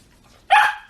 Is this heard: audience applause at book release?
no